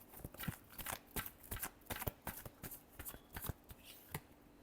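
Tarot cards being shuffled up close, a quiet run of crisp, irregular riffling slaps and flicks over a few seconds, with no speech.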